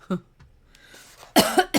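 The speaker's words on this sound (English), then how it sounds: "I also have a little bit of a cough." Coughing close to the mic: a short cough at the start, then a louder, harsher burst of coughs near the end.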